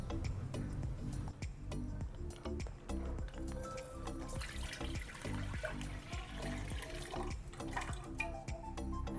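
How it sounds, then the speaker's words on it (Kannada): Milk is poured from opened packets into a pot that already holds a little water, a soft, quiet splashing and gurgling pour with small clatters of the packet and pot at a steady close range. "ಈಗ ಪ್ಯಾಕೆಟ್ ಒಡೆದು ಹಾಕ್ಕೊಳ್ಳೋಣ."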